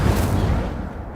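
An Incendio fire spell erupts in Hogwarts Legacy: a single loud, low, rumbling blast, like a burst of flame, that rolls on and fades over about a second.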